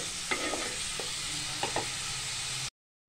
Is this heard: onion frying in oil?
yes